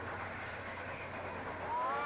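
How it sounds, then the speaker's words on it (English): A train rolls along a track with a steady low rumble and broad rushing noise, fairly faint throughout, and a thin rising whistle-like tone comes in near the end. "pounding, pulsating rhythm of a train upon a track."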